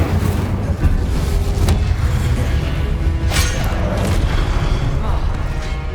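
Confringo fire spell explosions in Hogwarts Legacy, a thick, continuous barrage of loud booming blasts and crackling bursts that pile up into a dense roar with no pauses.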